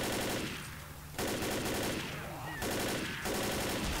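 Rapid bursts of automatic rifle fire in the zombie shooter Left 4 Dead, loud, dense and sustained in three stretches with brief pauses between.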